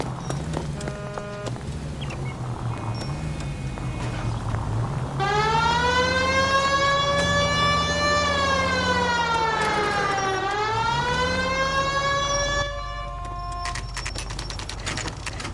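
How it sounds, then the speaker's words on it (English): A police car siren in the video game L.A. Noire wails in long rising and falling sweeps for several seconds over a steady rumbling background, then cuts off abruptly. "Put the siren on!"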